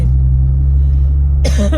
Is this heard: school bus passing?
yes